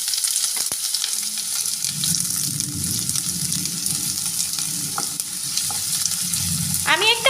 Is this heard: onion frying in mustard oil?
yes